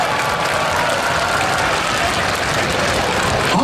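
A big arena crowd at a monster truck show applauds in a dense, steady roar of clapping, loud and sustained throughout, with no break.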